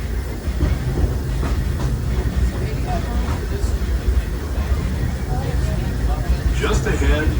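The Disneyland Railroad steam train Fred Gurley rolls along its rails on an early-morning Grand Circle Tour, a steady close rumble with rhythmic wheel clatter and a few squeals, under ongoing talk.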